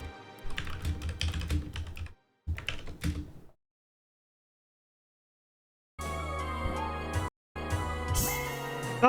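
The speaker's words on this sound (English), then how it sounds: "I was typing out a message in chat" Rapid typing on a computer keyboard, close and crisp, in bursts of clattering keystrokes broken by a few seconds of silence, with no talk.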